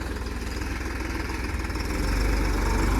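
A 50 HP New Holland 3630 tractor engine runs close by in 4x4, a rhythmic low diesel chug that grows slightly louder and heavier toward the end.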